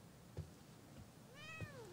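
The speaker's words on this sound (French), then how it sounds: "Petit chat." A cat in the video game The Medium meows, one clear rising-and-falling meow near the end, with faint low thumps and quiet ambience around it.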